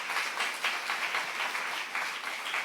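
Congregation claps during a sermon at Jesus Centered Church, a lively stretch of many hands applauding in a reverberant hall, steady with slight swells, alone without speech.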